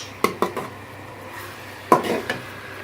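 Ginger and garlic paste sautéed in oil in a pot over medium heat: a few sharp spoon clacks against the pot, a pause, then more knocks and scraping over a faint sizzle.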